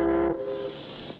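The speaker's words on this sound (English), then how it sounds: "That's the first boat whistle that's sounded in 3 weeks." A loud, steady boat whistle blast sounds briefly and then cuts off, leaving a low rumbling background.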